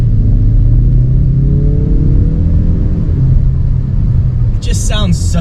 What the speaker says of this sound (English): we're gonna do a little acceleration test just to show you, like, just to get an induction sound